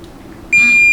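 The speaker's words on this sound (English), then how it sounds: "it doesn't take much effort at all to get this thing to beep" A digital torque wrench tightening bolts on a 2017+ Ford 6R140 transmission valve body lets out a single loud, sustained electronic beep halfway through, after a quiet stretch of faint workshop background.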